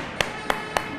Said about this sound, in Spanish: Aplauso para ese gol.